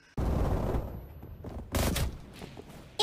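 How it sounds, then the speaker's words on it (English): Sniper rifle gunfire in an online video game, a sudden loud shot followed by a second sharp burst of fire, heard close amid game noise without speech. "That's a sniper rifle too."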